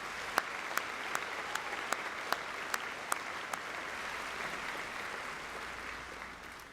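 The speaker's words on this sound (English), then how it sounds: "Please join me in a round of applause for the North Administrative team" A graduation audience at North High School in ISD 622 applauds in 2019, a broad sustained roar of many hands from a large crowd, steady throughout with a few sharper claps poking out near the front.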